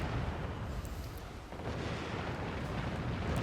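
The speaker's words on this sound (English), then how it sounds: "I'm just not going to stop shooting until it's actually sunk." Naval guns fire on an aircraft carrier during a Warship Gunner 2 battle, heard as a dense, rumbling barrage of blasts that stays low and muffled throughout, with no voices.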